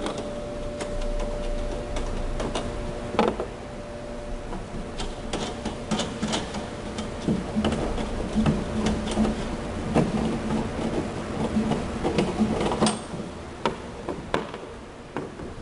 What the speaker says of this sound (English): Loosen and remove these wing nuts.